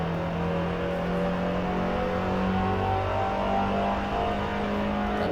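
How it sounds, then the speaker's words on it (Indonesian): A Fiat car on a hot lap at the Formula E Ancol circuit, engine heard from inside the cabin rising and holding as it accelerates, a steady loud drone throughout. "Sekarang kita akan coba hot lap pakai Fiat."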